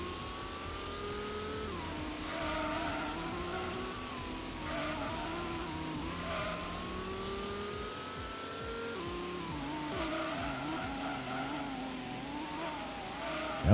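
A tuned race car in the Gran Turismo video game drives hard, its engine droning steadily with gear shifts and pitch swings, and sustained tire squeal and skidding under braking run throughout.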